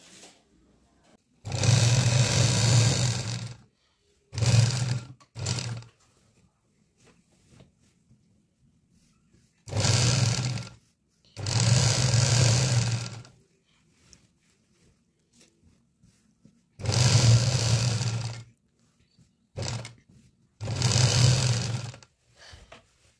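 A sewing machine stitches saree pleats, running in several loud, close bursts of rapid whirring, each a second or two long, separated by short pauses and near-silence.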